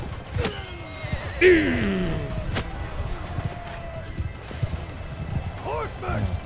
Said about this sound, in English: Although this is just the horse archer vanguard.